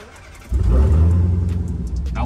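A Dodge Hellcat's engine catches at about the half-second mark and settles into a loud, throaty idle close by, with a faint voice underneath.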